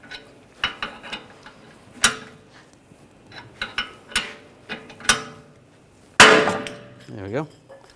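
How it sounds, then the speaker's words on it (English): A hammer taps a stuck sleeve on the outer tie rod of a 2009-2010 BMW 535 xDrive steering rack, giving a series of sharp metallic knocks at irregular intervals, then a louder clank and a scraping squeak. "I'm just taking a hammer, just give it a tap, loosen that up."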